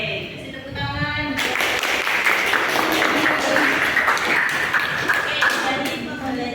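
Classroom audience applause during an accounting lesson, a sustained burst of clapping that starts abruptly after a brief moment of talk and continues steadily at close range.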